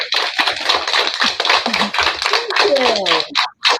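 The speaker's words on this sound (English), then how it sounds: "give Miss Haddix a round of applause, please." Several elementary school classes at a children's book festival give a round of applause, a busy crackle of many hands with children's voices and cheers mixed in, ending abruptly.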